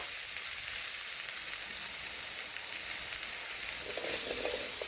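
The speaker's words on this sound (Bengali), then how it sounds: "একটু নাড়াচাড়া করে মিশিয়ে নিলাম" Spices with salt and turmeric being stirred in a frying pan for a paneer dish, giving a steady broadband sizzle throughout with faint scraping toward the end, close and moderately loud.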